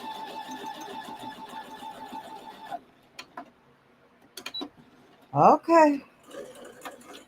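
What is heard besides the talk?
sewing machine stitching quilt blocks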